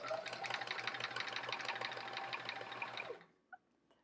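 An embroidery sewing machine runs at a steady, rapid stitching pace with a fast rhythmic pulse. It stops abruptly near the end, leaving near-silence and a couple of faint clicks.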